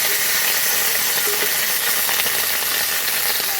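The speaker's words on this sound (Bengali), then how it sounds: "এদিক দিয়ে মোটামুটি করে সিমটা ভাজা হয়ে গেছে। তারপর পোস্ত কাঁচা লঙ্কা বেটে সিমের মধ্যে দিয়ে দিলাম। এবার নাড়াচাড়া করব" Flat beans frying in a pan after a paste of ground poppy seed and green chilli has been added for a bean and poppy seed chorchori; a loud, continuous sizzling hiss with faint scraping, close by.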